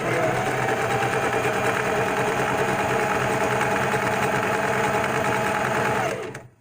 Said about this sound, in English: if you're a beginner, don't sew this quickly